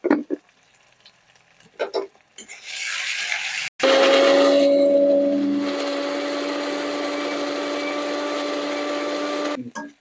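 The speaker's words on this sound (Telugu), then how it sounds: "నేనైతే ఇది మిక్సీ పట్టేస్తాను" After some clattering and short knocks, a mixer grinder starts and runs with a loud, steady motor whine for several seconds before stopping.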